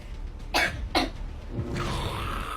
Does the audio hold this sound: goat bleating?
no